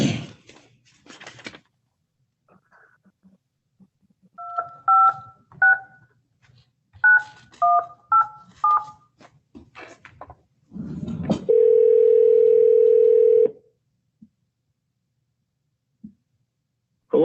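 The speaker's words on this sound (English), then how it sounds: "so I just dialed your phone number" Telephone keypad dialing, a series of short two-tone beeps in quick clusters followed by a steady sustained dial tone, with a few soft thumps and faint room noise around them.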